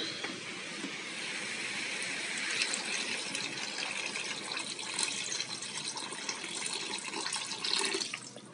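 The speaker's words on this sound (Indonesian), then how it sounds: "lalu kita tambahkan air" Water pours steadily into a cooking pot of chicken rica, giving a continuous broadband splashing rush that holds its level throughout, with no talk.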